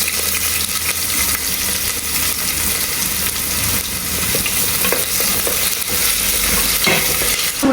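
Onions sizzle and fry in a hot pan while being stirred, a steady broadband crackle running throughout at close range with occasional scraping clinks, no talking.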